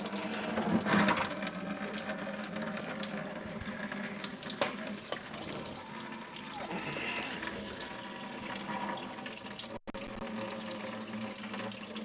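Liquid drains steadily from a small plastic drain plug on a Nissan Xterra that stalled on the road. It makes a continuous splashing trickle close by, fairly quiet, with a brief dropout near the end.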